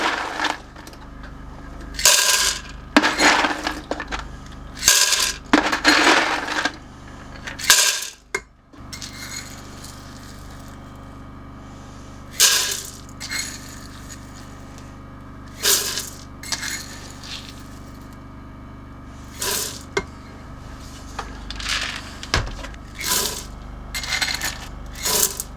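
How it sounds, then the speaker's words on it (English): Dried red kidney beans, green lentils and black beans poured in bursts into a container, a series of loud rattling, clinking cascades separated by short pauses, close up with no talking. "we're going to add 1 cup of our red kidney beans, 1 cup of our green lentils,"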